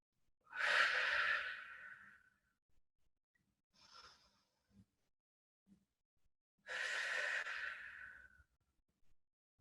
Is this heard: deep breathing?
yes